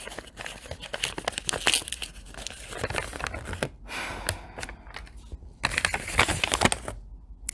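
A small slip of paper tucked beneath the A bar of a toy xylophone is handled and unfolded, with close, irregular crinkling and rustling bursts separated by brief quiet gaps.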